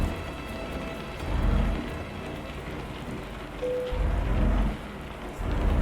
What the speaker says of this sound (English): It's a rainy day in Bologna